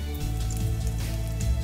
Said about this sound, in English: And then fry the garlic whole.